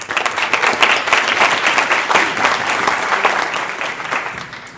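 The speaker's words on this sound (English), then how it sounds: "we'll do one more applause, but then we have to stop" Banquet audience applauding: dense, steady clapping from a large room that holds strong throughout and tapers slightly at the end.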